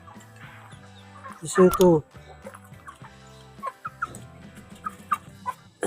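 Pet chickens clucking while being fed by a hobby breeder, with short scattered clucks and a loud burst of squawking early on, heard under a man's nearby speech.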